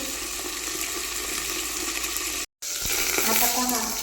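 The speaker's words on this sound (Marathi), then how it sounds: "दोन ते तीन मिनटं आपल्याला व्यवस्थित भाजून घ्यायची आहे मिरची" Green chilies roast and sizzle in a pan over medium heat, a steady loud frying hiss with stirring scrapes and a brief break partway through.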